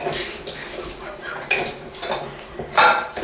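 Metal paddle attachment clinking against a KitchenAid stand mixer and bowl while making chocolate chip cookie dough, a series of sharp close clanks and taps with short pauses between them.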